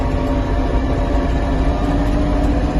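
An Iseki Geas TG253 Japanese mini tractor drives in fourth gear, its small diesel engine giving a steady, loud, close rumbling drone with no pauses and no voices.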